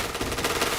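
A rapid, loud burst of automatic gunfire in the online shooter Point Blank, a headshot fired in quick succession for under a second.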